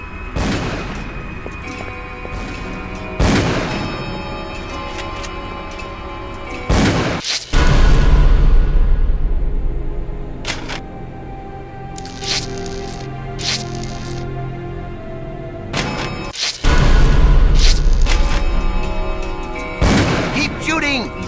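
Gunfire and explosions in the horror video game Call of Cthulhu, with loud booming blasts and sharp shots recurring in bursts over a rumbling low background.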